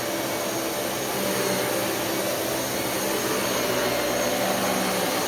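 A Dyson Cinetic Big Ball UP14 DC77 upright vacuum cleaner runs close by with a loud, steady whooshing motor roar and a thin whine through its length, with no talk.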